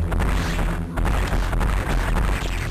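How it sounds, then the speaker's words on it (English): Explosions from bombs and missile impacts in the video game Metroid Fusion boom in quick succession, deep and heavy rumbling bursts with short gaps, loud and filling the space without any talk. "When there's an explosion in this game, like from a bomb or missile impact, you feel that shit."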